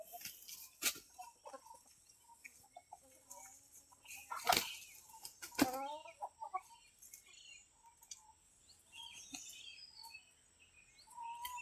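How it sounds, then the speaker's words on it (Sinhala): Free-ranging village chickens cluck softly and intermittently outdoors, with a few sharper squawks and scratching sounds, quiet and fairly close with no talking. "ගං කුකුල්ල එළියට ඇරපුවාම එයාලා මේ වගේ තනකොළ කනවා."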